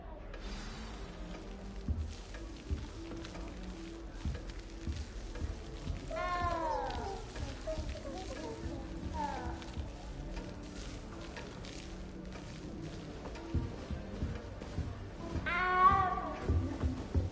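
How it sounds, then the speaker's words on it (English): A cat meows in a Wizarding World video game, several short rising-falling calls spread apart over a soft background of ambient game noise and faint voices. "good luck finding that cat"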